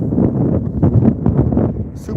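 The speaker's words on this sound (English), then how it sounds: "Super windy right now." Strong outdoor wind buffeting the microphone, a loud, rumbling roar that surges and dips throughout, with a voice partly buried beneath it.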